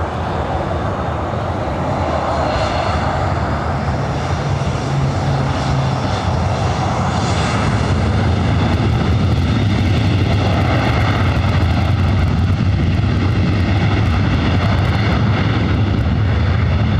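A Boeing 787-8 Dreamliner arriving at Los Angeles from Tokyo Haneda gives a loud, steady jet roar with a whining tone, holding close and heavy throughout, with no talking.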